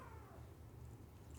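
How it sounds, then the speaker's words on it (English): A cat meows in a single faint, drawn-out falling cry over a low background hum, brief and somewhat distant from the microphone. "You're just meowing."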